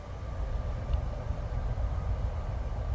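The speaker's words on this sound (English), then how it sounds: "there's a train in the background." A train rumbles low and continuously in the distance beside Bordertown Cemetery, a steady muffled roar with no voices.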